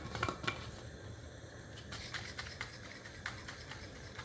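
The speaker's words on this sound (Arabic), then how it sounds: "وارج المية والنسكافيه والسكر." Water, Nescafé and sugar shaken hard inside a covered container, producing a steady, busy rattling and sloshing with sharper clattering hits near the start, close and alone with no talk.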